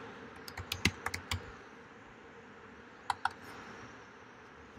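Keys clack on a computer keyboard, close and fairly quiet: a quick cluster of keystrokes, a pause, then two more taps, over a faint room hiss.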